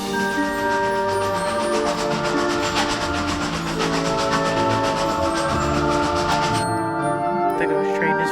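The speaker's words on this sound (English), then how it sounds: "The ghost train is vaguely hilarious." A ghost train rolls through a Halloween-themed theme park management game, with steady rhythmic rail clatter and tonal ride music running loud throughout, under a speaking voice.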